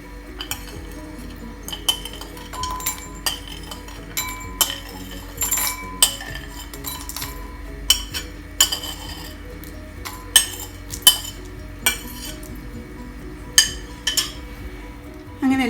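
Dry fruits dropped into a bowl, giving scattered light clinks and taps against the dish, some sharper than others, close and moderately loud with no talk.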